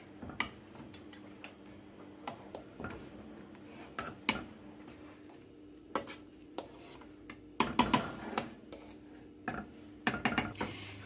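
Boiled potatoes being mashed for samosa filling, irregular clinks and knocks of the masher against the pot, fairly quiet, with a busier cluster of taps near the end.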